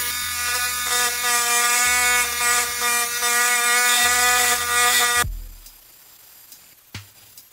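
A cheap rotary engraving tool grinds against a wine glass with a steady high whine and shifting buzz for about five seconds, then cuts off, leaving faint clicks and handling noise.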